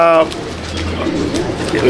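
Madras pigeons coo in a loft, a low soft murmur running steadily under a voice close by, with a brief harmonic call at the very start.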